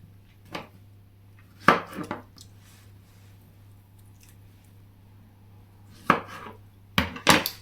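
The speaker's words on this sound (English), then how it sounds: "I've just got the last 4 strawberries to just slice in half" Knife slicing strawberries in half on a cutting board, a few separate soft chops and thuds spaced out with quiet gaps between them, close by.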